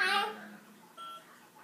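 A few short telephone keypad tones beep at a modest level as a number is dialed on a phone. A voice comes just before them.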